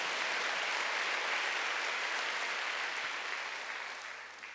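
Church congregation applauding during a Wednesday worship service, a dense, sustained wash of clapping from many hands that holds steady and then tapers off toward the end.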